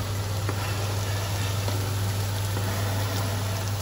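Finely chopped shallot fries in a pan with a steady, dense sizzle and a low constant hum underneath, even in loudness throughout and without speech.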